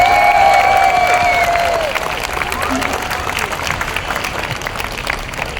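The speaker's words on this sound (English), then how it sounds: "So how about a round of applause for the organisers?" Audience applause for the organisers at a national animal rights march, a dense crowd of clapping heard close and loud with a voice and whistle-like tones over the opening, holding steady for several seconds.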